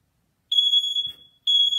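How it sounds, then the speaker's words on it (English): A home smoke detector goes off in a kitchen while food is being cooked, sounding a loud, piercing electronic beep held for about a second, a brief gap with a soft thump, then the beep resumes. "I done set off the smoke detector"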